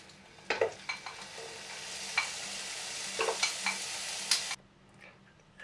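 Scampi hit a hot pan and fry with a steady sizzle, punctuated by several sharp clinks and scrapes of a utensil, close up, before the sound abruptly drops away near the end; no talking.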